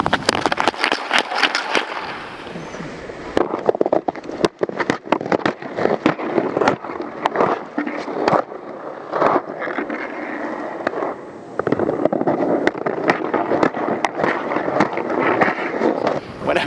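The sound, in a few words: ice skates doing crossover start and forward strides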